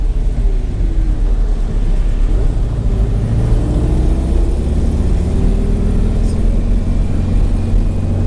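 A Porsche 356C engine hums steadily at cruising speed through Coral Gables, Miami, with constant road rumble, close and loud throughout, no talking.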